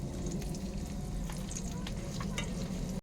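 Besan-battered vegetables, including brinjal coated in gram flour batter with salt and turmeric, frying in hot oil with a steady, dense crackling sizzle that stays loud and close throughout before cutting off abruptly.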